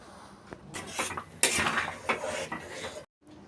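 Fritters drop into a pot of curry and a lid clanks on, metal scrapes and clinks of utensils and cookware in a kitchen, close and uneven, ending in brief silence.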